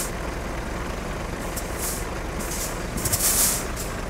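A convoy of truck engines idles in a steady low rumble, with sharp hissing air-brake bursts breaking through toward the end.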